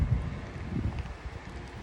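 Cold wind blowing across an outdoor microphone while walking to a shop, a steady low rumbling buffet with gusty swells throughout.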